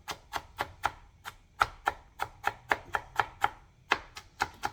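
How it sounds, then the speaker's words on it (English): A knife chops green onions on a cutting board in about fifteen crisp, close, evenly spaced strikes, with short pauses between small runs and no talking. "I'm just using my knife"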